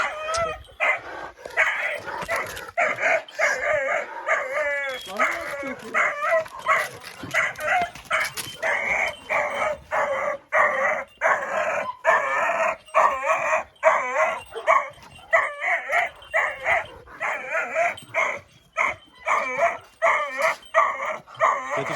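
A dog barks repeatedly in rapid, excited bursts, with some drawn-out howling and whining mixed in, close and loud throughout.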